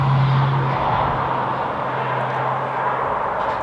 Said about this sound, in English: let me wait for that truck to pass